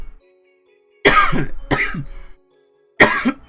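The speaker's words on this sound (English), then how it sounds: "Sorry for the coughing." Three harsh coughs ring out close up, the first two in quick succession and a third after a short pause, with near silence between them.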